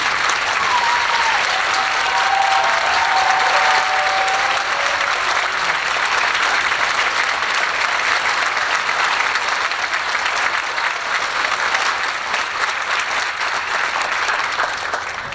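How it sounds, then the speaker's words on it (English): An audience gives sustained, loud applause for seniors at a high school concert, with dense clapping holding evenly throughout and only faint crowd murmur beneath it. "I want them to stand up because they deserve an enormous round of applause"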